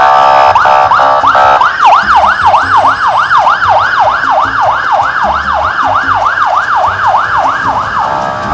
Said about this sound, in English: There's an ambulance making its way on the busy streets.